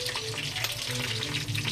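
Fenugreek, mustard seeds and pepper fry in hot oil in a pan, giving a close, steady sizzle with fine crackling throughout the short stretch.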